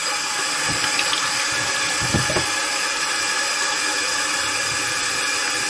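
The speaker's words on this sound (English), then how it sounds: "Always wash your hands." Running water pours steadily at a kitchen sink while hands are washed during sausage making, a constant close hiss with a few faint clunks and splashes and no voices.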